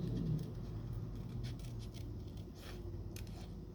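Scissors cut paper around tree and bunny shapes for a storybook gnome craft. Soft, steady snipping and rustling fills the clip, close and quiet, with no talking.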